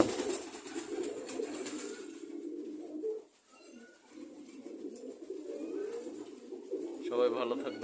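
Pigeons kept as pets coo in low, soft, repeated calls nearby, continuing through most of the stretch with a brief dip partway.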